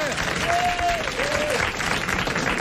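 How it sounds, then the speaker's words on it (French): A studio audience at a 1987 French television variety show applauds steadily. The dense, continuous clapping fills the room, and a faint whistle rises briefly over it. "applaudissez-le"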